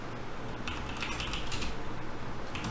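Keys clatter in quick, uneven bursts on a computer keyboard as a terminal command is typed, close up and fairly quiet over a steady low hum, with no voices.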